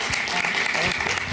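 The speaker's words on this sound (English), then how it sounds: "can we ask you to stand and with a round of applause for those folks?" Audience at a Sunday church service applauding medical team volunteers, a short burst of steady clapping that fills the room, with some voices mixed in.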